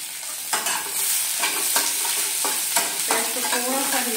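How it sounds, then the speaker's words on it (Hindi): Chopped onions and curry leaves stirred and lightly fried in a pan, a steady close sizzle broken by repeated scraping strokes of the spoon. "प्याज को थोड़ा सा हिला लेंगे, हल्का सा भून लेंगे इसको, ज्यादा नहीं फ्राई करेंगे।"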